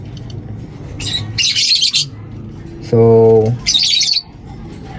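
Pet birds in a cage chirp close by in short bright bursts, and a squawk breaks in midway. Someone speaks briefly between the calls.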